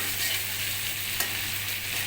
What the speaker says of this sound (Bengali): এটা এখন ভাজা হতে থাকুক।